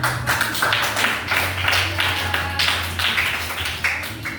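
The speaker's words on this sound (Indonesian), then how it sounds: "Iya, tepuk tangan." A classroom of students clapping hands together during an Indonesian language lesson, a steady, dense patter of many hands that continues throughout, fairly close and loud.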